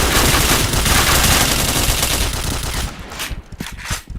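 Rapid bursts of gunfire fill a first-person shooter match, a loud, dense stream of shots for nearly three seconds before thinning into a few scattered cracks.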